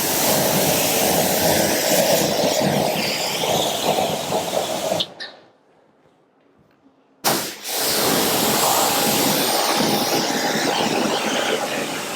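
Quick-beads detailer sprays in a loud hissing burst onto a car wheel during a hand wash, stops for a couple of seconds of near silence, then a second long burst follows.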